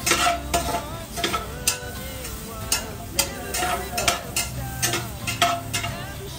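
Beef fat sizzles and fries in a pan while a utensil stirs it, steady frying hiss under repeated sharp scraping clinks of metal against the pan.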